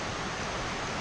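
Water pours down a rocky waterfall in Gorges State Park, North Carolina, a dense, steady broadband roar filling the whole moment, close and loud with no other sounds.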